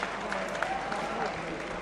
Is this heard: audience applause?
yes